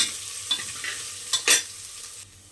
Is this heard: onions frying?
yes